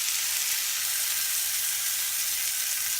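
Goose legs sear in a hot pan for a goose curry, giving a steady, loud, close sizzle of frying fat with no break across the whole stretch and no voices.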